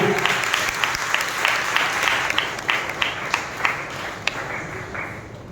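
A church congregation at an evening worship service claps loudly in praise, with dense, sustained applause and a few sharper individual claps standing out throughout.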